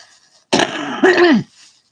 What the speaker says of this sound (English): coughing is good